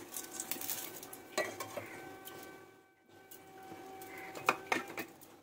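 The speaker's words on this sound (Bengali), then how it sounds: "এবার এর মধ্যে একটুখানি এক চামচ মতন ঘি দিয়ে দিলাম, একটা শুকনো লঙ্কা, একটা তেজপাতা ফোড়নে।" Dried red chili and a bay leaf sizzle in a spoonful of hot ghee while a utensil scrapes and clinks against the pan, steady frying with a short lull midway and a few sharper metallic taps near the end.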